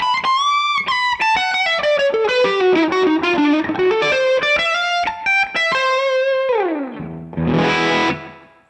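An electric guitar played through a Fulltone Supa-Trem and distortion pedals rings out in a run of sustained, gliding distorted notes, close and loud, ending in a rough, swelling tremolo-like burst.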